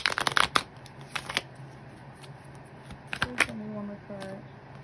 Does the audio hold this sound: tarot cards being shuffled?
yes